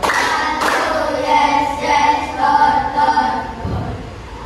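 Fourth-grade schoolchildren in an Indonesian classroom clap together on cue, bursts of group clapping with a teacher's voice heard over them.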